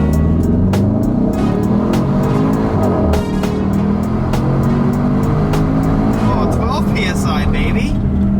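Turbocharged Mitsubishi Lancer Evo X engine with a big turbo, steady loud drone and rising revs, close to the microphone with a voice talking over it throughout.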